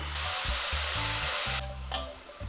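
Melted jaggery water hits grated coconut frying in a pan and erupts into a loud sizzling hiss, with stirring clatter and a pause in the bubbling partway through.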